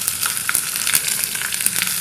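Chopped onion sizzles loudly in hot oil for a chutney, a dense close crackle with small pops throughout and no voices.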